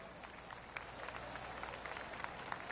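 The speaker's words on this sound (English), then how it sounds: "Oh, golf clap." Light, scattered golf applause from a distant gallery, a soft patter of claps continuing steadily for a few seconds.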